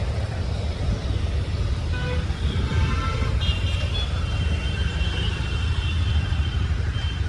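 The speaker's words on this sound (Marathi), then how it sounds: "फुल हाय ट्रॅफिक आहे" Heavy traffic crawling along a Mumbai road gives a constant low rumble of engines, with a few faint, thin horn tones sounding briefly partway through and no talking.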